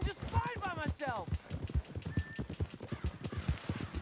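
A galloping horse in the Western game Red Dead Redemption 2, rapid rhythmic hoofbeats pounding close and loud with a couple of sharp whinnies near the start, continuing steadily throughout.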